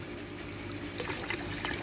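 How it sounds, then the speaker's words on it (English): Water poured into an aquaponics fish tank, a soft steady trickle and splash, faint and close, with no talk. "Pop some more water in there now."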